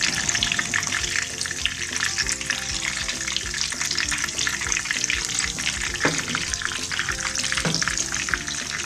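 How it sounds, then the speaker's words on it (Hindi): Breaded chicken sticks fry over a low flame in oil with a dense, steady crackling sizzle that runs throughout at moderate loudness, with a couple of faint knocks. "तो आराम आराम से इसको फ्राई करना है।"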